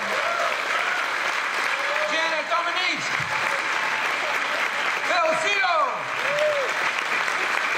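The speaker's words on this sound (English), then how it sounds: "how about a round of applause for our wonderful panel tonight?" Steady audience applause for a panel at the close of a televised talk show, sustained and fairly loud throughout, with a voice speaking over it.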